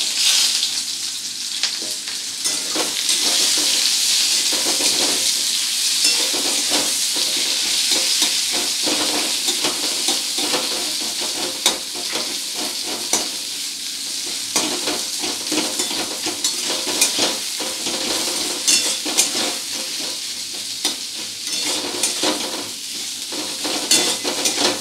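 Chopped onions fry and sizzle steadily in a pan after black cumin seeds are tempered, with frequent stirring scrapes throughout, loud and close, no talk.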